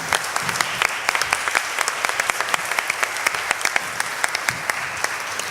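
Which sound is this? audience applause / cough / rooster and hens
audience applause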